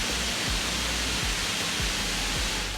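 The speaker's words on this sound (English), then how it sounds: "if you are simply using the fans at full speed without blasting any music, it will sound something like this." An MSI Titan GT77 gaming laptop runs its cooling fans at full speed, giving a steady, dense broadband whoosh like rushing air that holds constant throughout with no other sounds.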